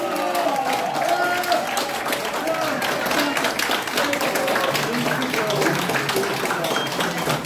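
Audience applause for a performing group at a commemorative event in a Catholic centre auditorium, a steady dense wash of clapping mixed with crowd murmur and some voices, sustained throughout.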